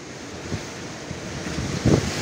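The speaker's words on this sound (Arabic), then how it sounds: "شوف شو على الريح شوف" Blustery sea wind and surf roll steadily along a fishing spot on the coast at Tangier, Morocco, with a few stronger gusts buffeting the microphone near the end.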